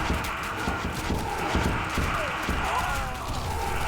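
Draft horses' hooves clip-clop in the Age of Mythology video game, a quick run of hoofbeats mixed with battle sounds, while a commentator talks over them.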